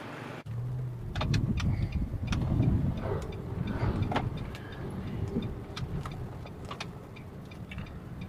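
A car rolls slowly through a residential apartment complex near Jomtien Beach, Thailand, with a steady low engine and tyre rumble, faint clicks and rattles, heard from inside the vehicle.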